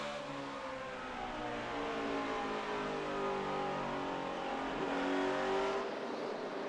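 NASCAR stock cars race at Richmond during the 2009 Crown Royal 400, a steady, fairly distant drone of multiple engines with swelling and fading revs as cars circle the track, continuous throughout.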